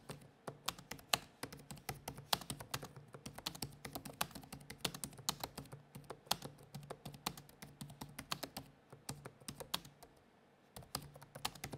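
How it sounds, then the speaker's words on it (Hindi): Steady, fast typing on the chiclet keyboard of an Asus TUF F15 laptop, with soft close clicks tapping in continuous bursts and a brief pause near the end. "the keyboard feels really solid while typing"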